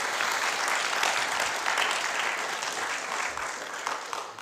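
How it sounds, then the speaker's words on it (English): An audience at an Israel Truth Week 2012 event breaks into sustained applause, a dense, loud wash of clapping that holds steady for several seconds before tapering slightly at the end. "Please give him a round of applause for all his work here."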